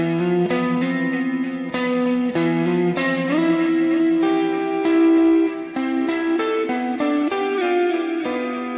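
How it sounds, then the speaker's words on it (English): An electric guitar lead with delay plays a melodic line of sustained, bending notes, fairly clean with echoing repeats, steady and prominent with no voices. "I drop the strings and we move to this guitar lead"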